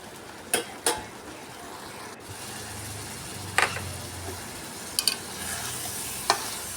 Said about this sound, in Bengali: এটা একটু ভালো করে কষিয়ে নিতে হবে।